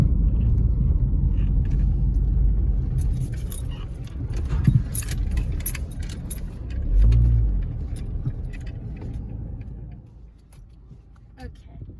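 A car rolls slowly up a residential driveway and along the road, its engine a low rumble that swells briefly midway, with jingling keys or rattles over it and a voice speaking at times.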